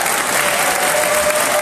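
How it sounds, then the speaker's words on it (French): Dense, steady applause from a studio audience welcoming a co-host, loud and continuous without a break. "Ben écoute, on va t'applaudir."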